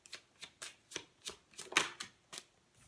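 Oracle cards being shuffled by hand during a tarot-style reading, a series of crisp, papery riffling bursts about every third of a second, close and clear with no talking.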